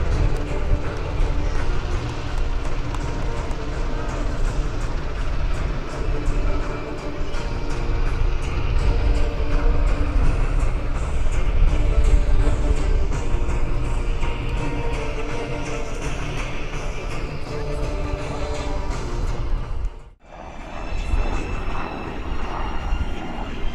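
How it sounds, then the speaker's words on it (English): A UH-60 Black Hawk helicopter performs a max performance takeoff at an airshow, its engines and rotors producing a loud, steady, broadband roar that holds for over twenty seconds with a brief dip near the end. "It can haul a house up with the max performance takeoff of the UH-60 Blackhawk."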